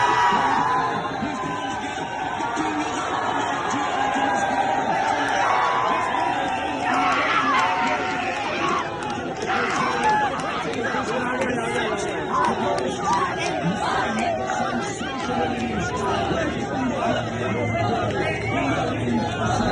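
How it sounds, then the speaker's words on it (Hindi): Pakistani cricket fans in a crowd cheering and hooting as Kohli completes his century, a dense continuous roar of chatter and shouts with no pause. "कोहली की सेंचुरी पूरी होने पर पाकिस्तान के अंदर उनके फैंस किस तरीके से चीयर कर रहे हैं, किस तरीके से हूटिंग कर रहे हैं"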